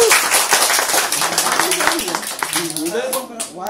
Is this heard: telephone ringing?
no